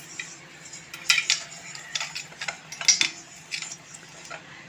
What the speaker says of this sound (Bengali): এরপর তেলটা সব বাটিতে ভালো করে মাখিয়ে দেব।